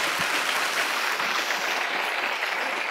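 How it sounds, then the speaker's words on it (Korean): A congregation applauding at a church gathering of business people, a dense, even wash of clapping that holds steady and fills the hall without talk over it. "Glorious round of applause to the Lord."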